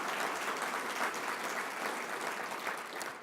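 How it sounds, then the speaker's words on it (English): An audience at a community breakfast gives sustained, even applause, a soft and fairly distant wash of many hands clapping with no voices over it. "And a big round of applause for Golden Corral."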